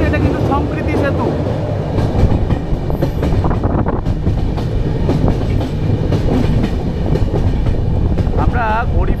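A Kolkata–Gorakhpur Purvanchal Express rumbles steadily across the Sampriti Setu rail bridge, loud and continuous with rhythmic clickety-clack of wheels and brief metallic squeals.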